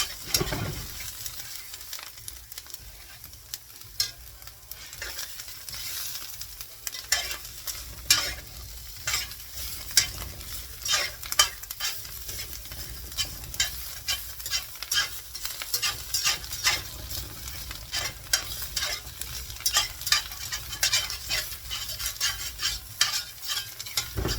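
Potatoes with mushroom, onion and ham fry in a pan as they are stirred, giving a steady soft sizzle broken by frequent close scraping and clattering strokes throughout.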